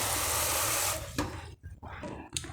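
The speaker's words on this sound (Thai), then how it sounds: "หลังจากที่พวกเฮาล้างเส้นแล้ว" Cold tap water runs over cooked spaghetti noodles being rinsed, a steady close rush of water that cuts off partway, followed by brief splashes and handling noises.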